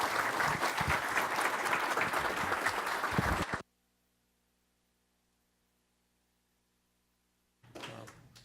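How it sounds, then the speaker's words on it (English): A round of applause at a city council meeting, a dense burst of clapping from the chamber that cuts off abruptly into near silence before a brief return of room noise. "Let's give her a round of applause."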